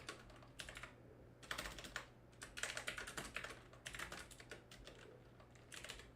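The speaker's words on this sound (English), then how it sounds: "My terrible typing here." Typing on a computer keyboard, bursts of rapid close key clicks separated by short pauses, fairly quiet and with no voices over them.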